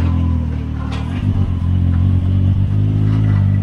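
A big-turbo car with a brand-new exhaust on a 0 to 60 run, still cold, giving a steady loud engine drone with a deep low rumble and a few clattering pops as it pulls.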